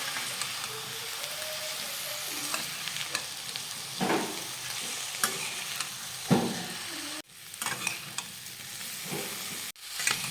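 A spoon stirs eggplant and potato vegetable while it sautés in a pan, giving a steady sizzle and hiss with several close scraping strokes. Two brief drops break the sizzle near the end, and nobody speaks.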